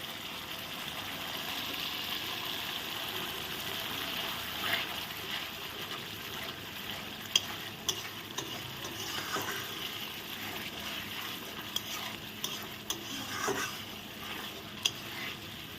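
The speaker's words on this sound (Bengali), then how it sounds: "এখন আমি মশলাটা কষিয়ে নিচ্ছি" Spice paste of dry chilli and cumin frying in a pan for a katla fish rezala, a soft, low sizzle with scattered light clicks and scrapes of a spoon stirring, quiet and close.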